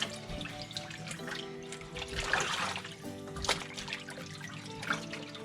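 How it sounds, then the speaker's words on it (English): Tap water runs steadily while cured pork belly is rinsed under it to wash off the bacon cure, with a continuous splashing flow and small fluctuations in strength, close by and without speech. "rinse it off, get all the cure and everything off of it"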